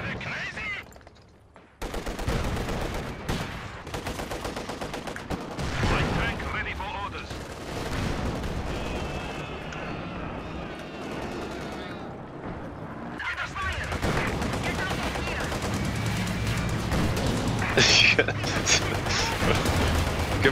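Machine gun fire and other gunfire rattle through a desert-map battle in Company of Heroes 2, with bursts and booms filling most of the stretch, mixed with game sounds while a player talks over it.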